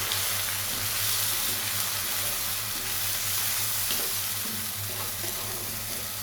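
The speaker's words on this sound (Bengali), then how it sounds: "রসুনের কাঁচা গন্ধটা যেন চলে যায়, এজন্য কিছুক্ষণ ভেজে নিয়েছি।" A blended paste of green chili, ginger and garlic fries in a pan with a steady, close sizzle and soft stirring that runs without pause.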